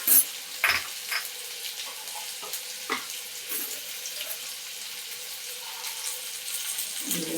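Red chilli and coriander powder hit hot oil in a pan with a soft sizzle and light stirring and scraping, and a sharper hiss flares up near the start, all close and fairly quiet.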